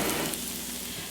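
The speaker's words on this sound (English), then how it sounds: "This is our scrunchions and our onions frying" Scrunchions, fried bits of salt pork, sizzling with onions in a pan: a steady, dense crackle and hiss, fairly loud and continuous, with no voices over it.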